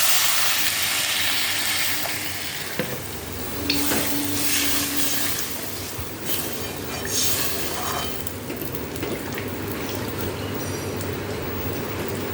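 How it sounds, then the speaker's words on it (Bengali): Water is poured into a hot pan of malai shukto, setting off a loud, steady sizzle and hiss of frying and steam that carries on throughout, with occasional stirring scrapes and no speech. "এবার জল দিয়ে দিই।"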